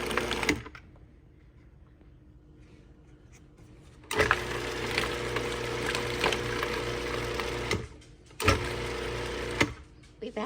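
A Cuisinart food processor blends pumpkin puree with pumpkin spice in two loud motor bursts, with a faint background hum in between.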